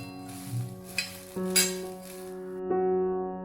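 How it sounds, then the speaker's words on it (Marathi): Chili pieces roast in a pan with a soft, close sizzle and occasional stirring scrapes and light clinks, under a steady low hum. "आता मिरचीचे तुकडे छान भाजतायत"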